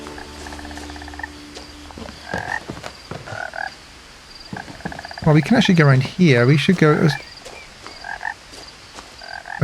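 Frogs croak in the game What Remains of Edith Finch, a steady outdoor chorus of repeated ribbity calls under someone talking, with a louder burst of voice in the middle.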